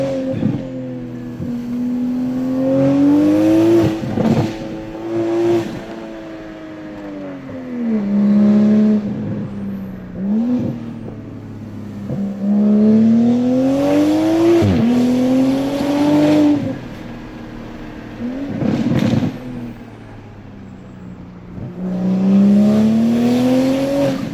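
Tuned Toyota A90 Supra engine pulling hard through the gears on a mountain road, loud and close with rising revs, brief dips between shifts and repeated surges of acceleration, no talk over it.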